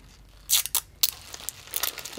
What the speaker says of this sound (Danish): I tager en hel masse papir, og så folder I det sammen til en kugle